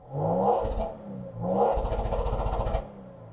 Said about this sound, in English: Sounds smooth. Give it some revs.